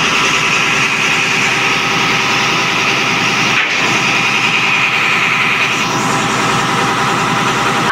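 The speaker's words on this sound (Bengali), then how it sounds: "এই হচ্ছে অথই এক লঞ্চের ইঞ্জিন রুম" A loud, steady engine drones in the engine room of the Othoi 1 river launch, a dense continuous mechanical roar with a brief dip midway and no talk.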